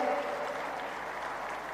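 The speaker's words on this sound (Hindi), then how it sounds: "अच्छी लगे ताली बजाइए" An audience at an outdoor festival gathering claps steadily, a dense even wash of applause heard at a moderate distance for a short stretch with no voices on top.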